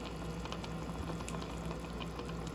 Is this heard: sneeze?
no